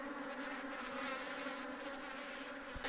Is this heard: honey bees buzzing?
yes